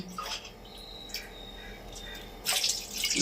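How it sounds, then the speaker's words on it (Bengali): Water pours into a cooking pot for soybeans in two brief splashing bursts, one near the start and a louder, longer one at the end, over a faint hissing background. "জল দিচ্ছি, আন্দাজ মতো জল দিতে হবে"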